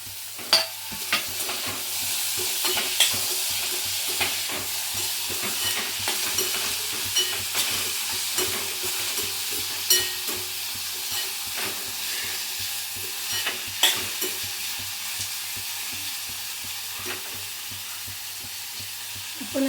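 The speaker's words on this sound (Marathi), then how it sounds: "आता आपण टोमॅटो टाकणार आहे." Tomatoes for tilkutatli gavar sizzle steadily in a hot pan, a continuous close frying hiss broken by faint scraping stirs, with no talking.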